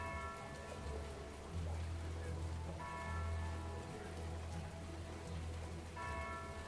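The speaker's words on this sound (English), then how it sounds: "And in the distance, the church bell rings." Church bell tolling in steady rain in Red Dead Redemption 2, the bell strokes ringing out several times at a distance over continuous rainfall with a low rumble beneath.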